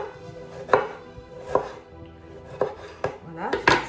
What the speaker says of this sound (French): Les autres légumes c'est pareil, je vais faire la même chose, hein. Je vais les couper assez finement.